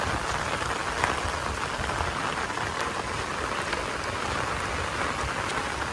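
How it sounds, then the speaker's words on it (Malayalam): Steady, heavy rain pours down, a dense even patter of drops on surfaces with no voices present. "ഇനി മഴ പെയ്തുകൊണ്ടേ ഇരിക്കുകയാണ്"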